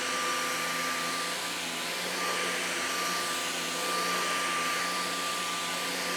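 A LEVOIT cordless vacuum cleaner runs steadily in turbo mode, a loud continuous motor whine with a thin high tone holding through the whole stretch and no voices.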